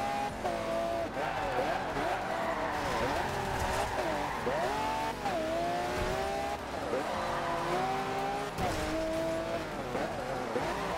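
Racing cars in a video game howl continuously, pitch swooping up and down through shifts with occasional tire squeals, loud throughout, with voices faintly mixed in.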